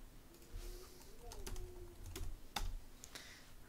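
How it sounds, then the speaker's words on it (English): A password is typed on a computer keyboard in a quiet room, a short, faint run of irregular key clicks with a few sharper taps. "Let's type in our password."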